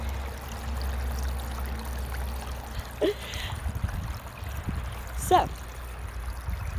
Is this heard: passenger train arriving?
no